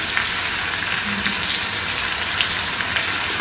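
Onions and curry leaves frying in hot oil for fried idli, a loud continuous close sizzle with a bright crackling hiss and no talking.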